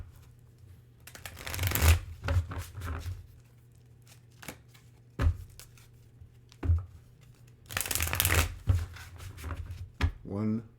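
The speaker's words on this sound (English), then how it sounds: "Let's get another couple shuffles out here." Tarot cards being shuffled in several close, crisp bursts of riffling and flicking, separated by short quiet pauses.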